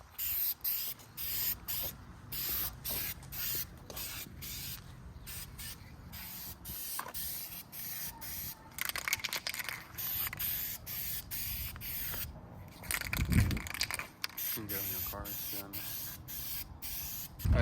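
Light coats of spray paint go onto a car front lip for an Acura Integra, with a steady close hiss of the aerosol in repeated passes that sometimes pause, while soft background noise runs throughout.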